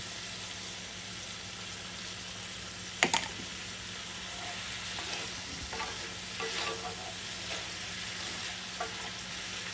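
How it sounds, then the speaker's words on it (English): Shrimp for tacos fry in a pan with lime juice, a steady close sizzle and crackle running throughout, broken by occasional utensil scrapes and taps. "it just took literally just under 3 minutes to cook the shrimp"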